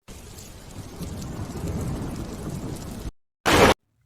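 Rain in a Filipino animated cartoon, a steady roar that builds over about three seconds and cuts off abruptly, then a short loud burst of thunder after a moment of silence.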